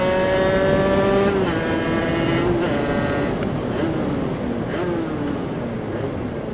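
A two-stroke MX dirt bike engine with a working power valve revs steadily at high pitch, its whining tone stepping and falling as the throttle changes, loud and close, with no voices.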